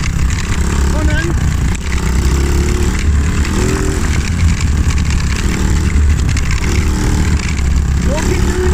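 Small monkey bike engine running under load with a steady low rumble, loud and close, while someone talks over it throughout.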